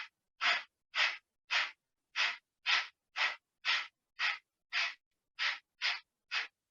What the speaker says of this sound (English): breath of fire, for those that don't know it, is a strong exhalation through the nose while using the diaphragm